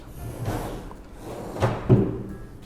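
A kitchen cabinet drawer in a Scandinavian-style home interior being opened or closed, giving a few soft wooden slides and thuds, the last one the firmest.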